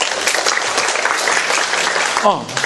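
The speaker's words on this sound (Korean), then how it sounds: "박수 한번 크게 해주세요." Lecture audience applauding loudly and steadily, a dense wash of many hands clapping close by for the whole short stretch.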